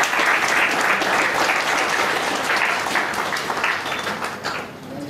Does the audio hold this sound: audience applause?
yes